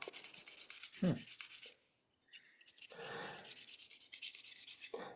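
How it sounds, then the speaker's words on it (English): Oiled slipstone rubbing the burr from inside a woodcarving gouge during tool sharpening, heard as soft, close rasping strokes in short bursts, with a brief louder knock near the start and a quiet pause midway. "with a little bit of oil, I'm just removing the burr from inside of that tool"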